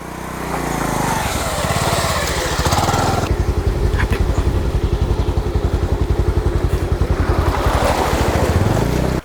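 A motorbike crosses a river through water on a trek to a hidden waterfall near Alasanthapuram, Tirupattur. Its close, loud engine throbs steadily over a broad rush of churning, splashing water.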